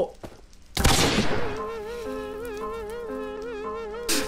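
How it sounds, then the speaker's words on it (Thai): Auto-firing plant in Plants vs Zombies shooting: a loud burst of rapid gunfire-like shots, then steady game music with a brief second burst near the end. "จาวิทใช้ระบบปฏิบัติการยิงออโต้"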